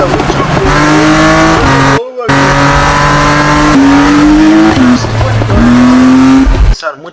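A Need for Speed race car's turbocharged engine revs hard and climbs through several gear changes with brief cutoffs between them, loud and continuous, ending in a sudden drop.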